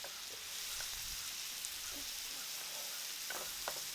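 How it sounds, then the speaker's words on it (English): Sausage browns in a pan for smoked queso dip, a soft steady sizzle with occasional faint scrapes and taps as chunks are broken up. "now that our sausage is browned all the way through"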